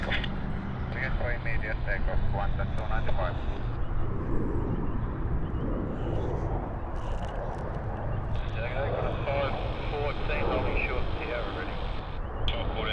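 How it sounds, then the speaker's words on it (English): A jet airliner departs from a Sydney Airport runway on a flight to Bangkok, heard as a steady, heavy engine roar from a distance that persists throughout, with faint voices and other airport noise mixed in. "Flight 295 off to Bangkok."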